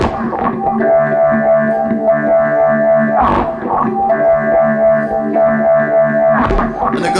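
Dubstep synth bass pattern pushed up an octave and run through effects and echo, a loud distorted, chorused tone repeating in two phrases with sharp attacks and reverberant tails.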